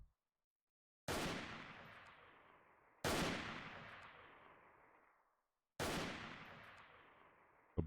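Three loud, sharp gunshots from the video game Freeman: Guerrilla Warfare, each followed by a long fading echo, spaced a couple of seconds apart with no talking.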